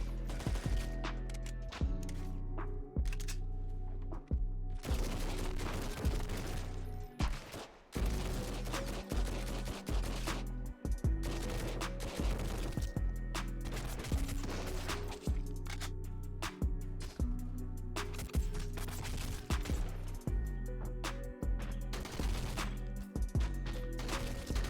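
Shotgun blasts and other weapon fire in the survival game Sunkenland, loud and relentless, with rapid bursts of gunfire and repeated sharp shots stacking over a dense, continuous din of combat.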